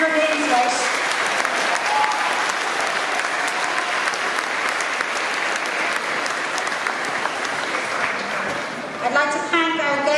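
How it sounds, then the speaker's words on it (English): A ceremony audience breaks into a big, sustained round of applause for Bora at a 2019 class certification ceremony, dense and steady for about ten seconds before a voice begins speaking as it fades. "give Bora a big round of applause for getting every single one of her names right"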